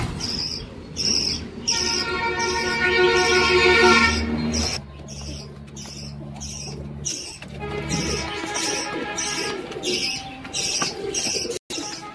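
Pigeons at a Bengali pigeon loft coo in low, throaty, overlapping calls that run steadily through the whole stretch, with bird chatter and insect-like buzzing in the background and no voices.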